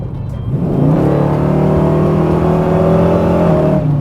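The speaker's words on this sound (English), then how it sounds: "when you rip this car, when you punch it, the torque is there" A powerful V8 engine in a Fox Body car with a Godzilla engine swap roars as it accelerates hard from 40 to 80, its deep rumble rising steadily in pitch and staying loud and close throughout.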